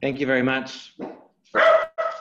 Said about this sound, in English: Apologies for my dog barking in the background.